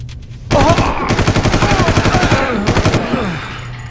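Rapid automatic gunfire from the Far Cry video game rattles in a dense, sustained burst for about two and a half seconds, loud and close, then tapers off.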